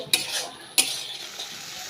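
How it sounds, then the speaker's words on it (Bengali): Turmeric, Kashmiri chili powder and other ground spices being stir-fried in a pan, with two sharp spatula scrapes over a soft, continuous sizzle, close up and without speech. "মশলাগুলো দিয়ে ভালো করে কষিয়ে নেব"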